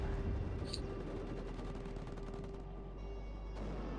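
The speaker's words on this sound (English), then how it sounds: "Artillery coming in on that area now." Artillery fire in the Cold War strategy game WARNO, a rumbling wash of distant impacts and rapid reports over a steady battlefield drone, fairly quiet, with a faint high tone partway through.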